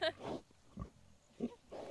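An Idaho pasture pig grunts in a pen, giving several short, low, close-up grunts separated by brief pauses.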